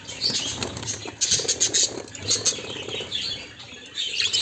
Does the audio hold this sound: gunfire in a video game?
no